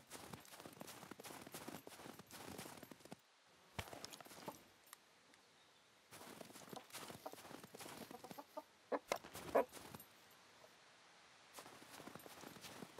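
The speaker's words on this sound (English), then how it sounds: "And there's the chicken." A chicken clucking in the video game Scum, faint and intermittent, mixed with repeated footstep-like clopping and rustling in a quiet outdoor scene.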